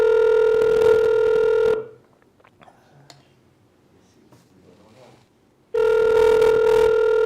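A phone ringing on a call, two loud sustained electronic ring bursts separated by a quiet pause with faint background sounds.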